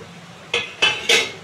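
Three sharp metal clinks ring out as a spatula strikes a pot while spices are stirred together for aloo dum with Kashmiri chilli powder, spaced about a quarter second apart, close and fairly loud over a quiet background.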